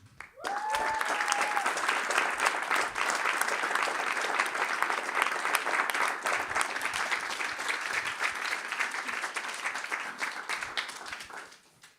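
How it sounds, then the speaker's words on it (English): A conference audience at a closing awards ceremony gives a sustained round of applause lasting about twelve seconds, steady and full throughout, with a brief voice at the start before the clapping swells and then fades out at the end. "join you in just one round of applause for them"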